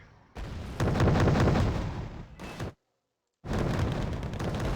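Rapid 30mm autocannon fire from BMD-2 vehicles in the Wargame Red Dragon battle game, dense booming bursts running almost continuously, breaking off briefly into silence before another loud stretch resumes.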